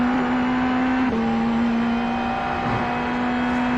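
An Indy NXT race car engine in iRacing holds a steady, loud droning tone for several seconds, with a brief dip around a gear change before the pitch settles again, heard alone without talk.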